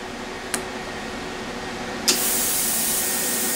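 Compressed air from an air compressor line at around 80 psi hisses out in a loud, sustained blast after a brief earlier puff, steady and close with no talking.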